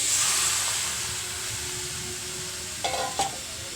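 Chicken pieces sizzling in oil with fried spice paste in a pan for green chilli chicken, a steady close hiss while being stirred, with a couple of brief spoon scrapes near the end.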